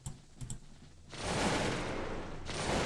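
A musket volley from Cossacks 2 infantry bursts into a dense, sustained crackle of gunfire after a few faint clicks, fairly quiet in the game mix.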